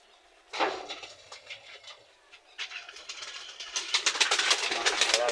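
A fancy flying pigeon of the kingfisher-type breed moves nearby, giving soft irregular rustles and bursts of wing and body sound that grow busier and louder toward the end, with no talk.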